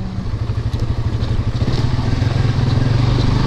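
A Suzuki GSX-S 150 motorcycle from 2017 rides over a rocky road, its engine thrumming steadily and loud up close with a constant rattling, bumpy clatter from the rough surface.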